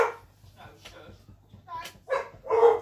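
A dog barks a few times in the background of a home, sharp bursts rising toward the end, with a person talking over and between them.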